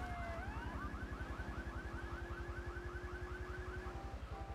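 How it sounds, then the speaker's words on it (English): A car alarm in Grand Theft Auto III blares continuously, a rapid warbling siren tone repeating in steady pulses over a droning engine hum, loud and alone throughout. "the uh, car alarm was going off"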